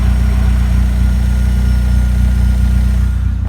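A car engine idles with a steady low rumble and a constant whirring drone from a worn clutch thrust bearing, loud and close, with no talk.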